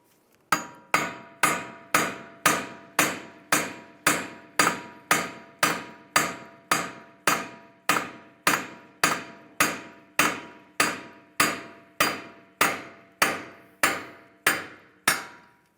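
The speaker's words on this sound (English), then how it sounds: "Just going to take a punch and just give it a couple taps just to separate the axle from the hub." A hammer strikes a punch to knock a VW Beetle axle loose from its hub, about two dozen sharp, loud metallic blows in a steady, evenly spaced rhythm that rings briefly after each hit.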